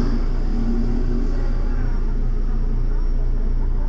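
A running Fiat Uno 1.0 Mille Fire 8V flex-fuel engine from 2013, a steady, close, loud low rumble holding an even idle throughout with no talk over it.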